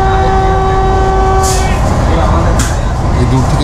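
Puri Vande Bharat Express heard from inside near the driver's cabin: a loud, steady running rumble with a constant low roar and faint tonal hums, plus two short hissing bursts.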